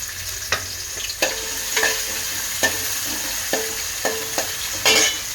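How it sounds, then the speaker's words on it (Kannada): Onions sautéing in a pan for mushroom fried rice, a steady bright sizzle broken by about eight evenly spaced spatula knocks and scrapes against the pan, close and loud with no speech. "ಈ ಈರುಳ್ಳಿ ಕೆಂಪದಾಗಲಿ ಒಂದು 3 ನಿಮಿಷ ಇದನ್ನು ಬಾಡಿಸ್ಕೊಳ್ಳಿ"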